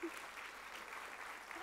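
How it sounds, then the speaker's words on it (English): Audience applause fills a talk at the BSidesWLG 2017 infosec conference: a steady wash of many hands clapping at moderate level, unbroken from start to finish with no voices on top. "This is such a weird slide for anyone to clap at."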